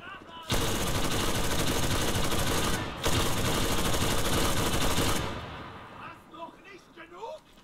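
Machine gun fire from an MG nest in the video game Enlisted: a loud, sustained close burst lasting several seconds with a brief break, then fading into quieter background sounds.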